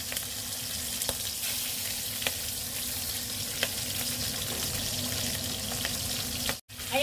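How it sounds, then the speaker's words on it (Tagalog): Salted milkfish (daing na bangus) fries in hot oil skin side down, giving a steady crackling sizzle with occasional sharp pops, then a brief dropout and a short clatter near the end. "dito ako nagauna sa may kanyang kaliskis para hindi pa siya masunog itong ating piniprito na daing na bangus"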